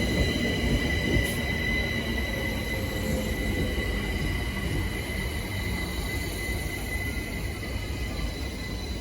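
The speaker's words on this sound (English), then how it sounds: "arriving now is the 1241 Windrush line service to Clapham Junction" London Overground Class 378 electric train on the Windrush line pulling into a station, a steady rolling rumble with a thin high whine, moderately distant and continuous throughout.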